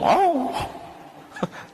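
A dog gives a single close, whining yelp with a falling pitch, followed by a couple of fainter short sounds.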